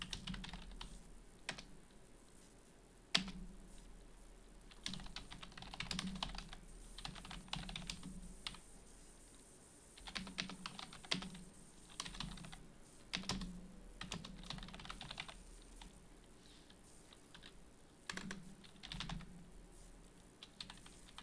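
Steady typing on a computer keyboard, with irregular bursts of quiet key clicks and occasional heavier keystrokes, close and fairly soft, with no voices.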